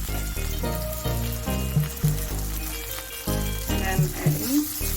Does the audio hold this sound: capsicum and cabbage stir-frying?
yes